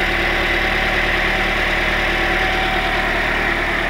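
A 2011 Toyota Corolla engine idles with fresh oil, a steady, close, continuous hum and vibration with no change in pitch.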